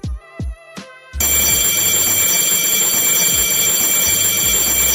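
A fire alarm bell set off from a manual pull station on an FDAS fire alarm system, a few short clicks and tones followed by a loud, continuous ringing bell that starts abruptly and keeps going with no talk.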